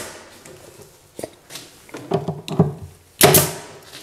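A brad nail gun fires brads into a wooden nightstand being built, giving several sharp thunks spread over a few seconds, with the final shot loudest and closest.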